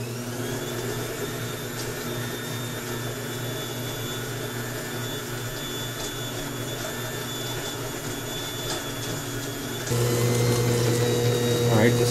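An electric mixer whirs steadily on a light mixing setting while beating chocolate batter with cocoa powder, before the flour goes in, a constant motor drone that grows slightly louder near the end.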